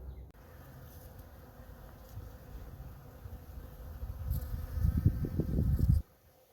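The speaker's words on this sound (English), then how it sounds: "I'll show you a little video with us not talking so you can hopefully hear the tree buzzing." Many bees buzz around a flowering tree near beehives in spring, making a steady, dense hum that grows louder toward the end as the insects come close, then stops suddenly.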